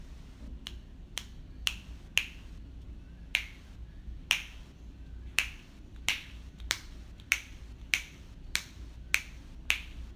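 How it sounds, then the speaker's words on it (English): Finger snaps ring out one at a time, about fourteen sharp clicks over roughly ten seconds at an uneven, loosening pace, close and clear above a faint low hum, with no voices. "The challenge was to snap my fingers"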